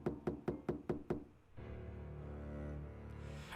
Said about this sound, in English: Just as I lie down on my futon, I heard someone pounding on the door.